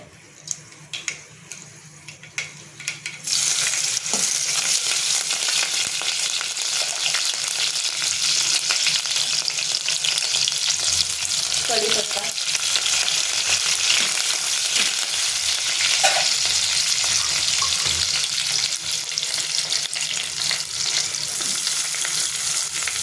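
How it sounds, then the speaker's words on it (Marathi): Mustard seeds and chillies hit hot oil in a pot, a loud, dense crackling sizzle that bursts in after a quiet start and roars on steadily to the end, with a few faint pops and scrapes. "छान तडतडला लागली की आपण लगेच मिरची टाकूया"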